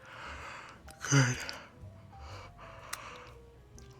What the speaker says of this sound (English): Your yawns are making me yawn.